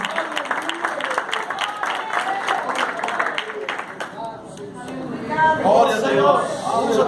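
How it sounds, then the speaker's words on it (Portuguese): A church congregation claps and applauds for Jesus during a sermon, steady mixed clapping with voices and chatter throughout, swelling louder near the end as a voice rises over it. "Aplaude ao Senhor Jesus."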